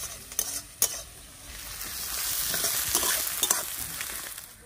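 Masala spices frying in a pan over low heat for a katla fish kaliya, a steady close sizzle with a few sharp utensil scrapes and stirring clicks.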